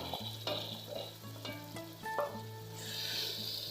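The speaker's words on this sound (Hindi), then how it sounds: "अब इसमें शामिल करेंगे गोश्त जो कि हमने मैरिनेट करने के लिए रख दिया था" Marinated meat drops into fried masala in a cooking pot, a close, quiet sizzle and frying crackle with a few clinks and stirring scrapes.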